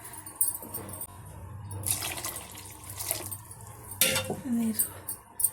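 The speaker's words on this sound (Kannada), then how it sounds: "ಒಂಚೂರು ನೀರು ಹಾಕೋಣ." Water is poured into a pot of avarekalu chicken sambar, a soft splashing trickle over low kitchen background noise, with a few brief clinks and a sharper splash near the end.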